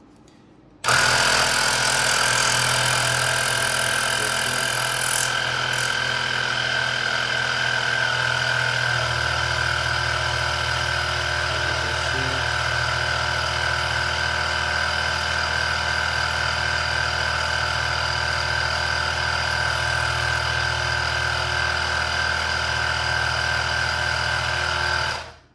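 A Woscher tyre inflator compressor runs after repair: a loud, close, continuous motor drone with buzzing piston vibration starts abruptly and holds steady for about 25 seconds before cutting off.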